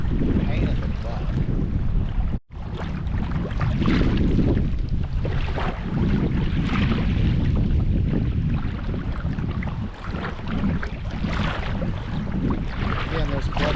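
Strong wind buffets the microphone over choppy water during kayak trolling for hybrid bass, a loud, constant roaring rush with a brief dropout, and a voice is heard beneath it.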